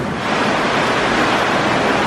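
Strong wind from Typhoon Carina roaring steadily in a broad, unbroken rush, loud and close to the microphone with buffeting noise throughout.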